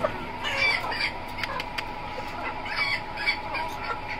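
Polish cap roosters and other fancy chickens cluck and call steadily in a poultry yard, a chorus of close, overlapping clucks and short squawks with no talking.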